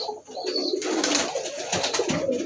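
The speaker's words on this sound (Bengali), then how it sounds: "দেখেন এই সব কবুতরগুলো খেপা।" Domestic deshi pigeons coo in a continuous close, dense chorus, with overlapping warbling calls running throughout and no talk.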